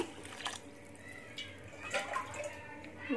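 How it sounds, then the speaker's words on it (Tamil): Several ladles of water poured over rice in a cooker for a Tamil sambar rice dish, producing soft splashing and trickling bursts in a quiet kitchen, with faint voices in the background. "இப்போ நம்ம 4 கரண்டி தண்ணி ஊற்றியாச்சு"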